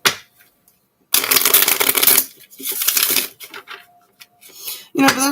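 Playing cards being shuffled by hand, crisp riffling bursts in two main runs with short pauses between, close and fairly loud, with a brief voice at the end.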